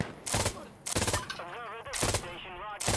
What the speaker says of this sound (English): Is that your MG3 firing over my damn head?